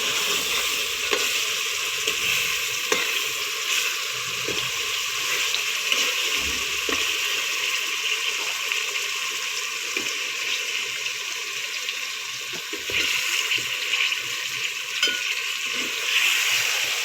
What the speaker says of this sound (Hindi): आलूओं को तकरीबन हमने 5 मिनट अच्छी तरह मसाले में इसकी बुनाई करनी है